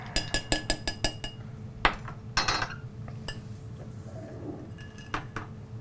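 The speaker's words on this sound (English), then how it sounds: "We're just going to give that a nice stir and chill this down" Blackberry iced tea is stirred with ice in a glass, a quick run of bright clinks and knocks followed by scattered taps and rattles of ice against the glass.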